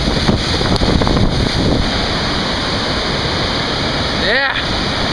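Spray and mist roar from Swallow Falls waterfall in Maryland, a loud, close, continuous rush buffeted by wind on the microphone, with brief voices in the mix.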